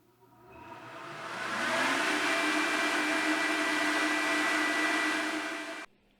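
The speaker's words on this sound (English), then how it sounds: "let's see how the fan runs with nothing attached" A DIY fume extractor fan with nothing attached spins up quickly and runs at a loud, steady whir with a faint tonal hum, then cuts off abruptly near the end.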